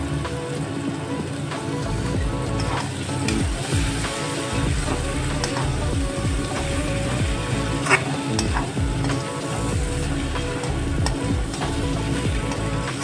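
Roasted rice stirred into a sizzling, well-cooked spice paste in a pan, with a steady loud crackle and repeated scraping stir strokes throughout and no talking.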